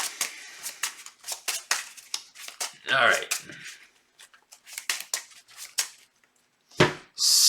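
Cards shuffled during a tabletop card game, a string of quick riffling and snapping bursts with brief pauses between them, close by, with a voice speaking briefly among them.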